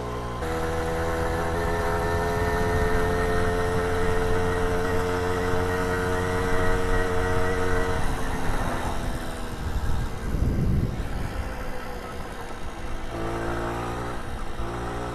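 A restored 1978 Puch Newport moped runs on a test ride, its small engine droning steadily, then revving and shifting pitch midway before settling into a buzzing run again, close and fairly loud throughout.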